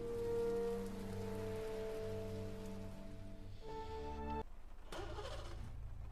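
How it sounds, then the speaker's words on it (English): Heavy rain falls in the video game Heavy Rain, a steady close hiss of drops on surfaces beneath sustained musical tones that shift and cut out near the end. "It's raining quite heavily, isn't it?"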